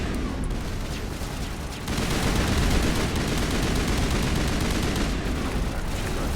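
Sustained gunfire in the video game Mass Effect Legendary Edition, a dense, continuous roar of rapid shots and blasts that swells slightly after the first couple of seconds and stays loud throughout.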